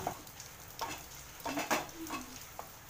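Rinsed kidney beans stirred into dal makhani in a pan, with a spoon scraping and clinking through the mixture in a few separate strokes over a soft, steady sizzle; nobody speaks.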